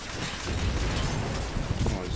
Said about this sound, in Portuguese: As explosões já ajudam muito